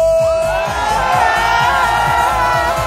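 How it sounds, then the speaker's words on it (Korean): A crowd at an autumn sports day shouts a loud, sustained cheer together, voices rising in a continuous roar with scattered whoops over a steady rhythmic beat underneath. "들면서 함성 한번 질러볼게요"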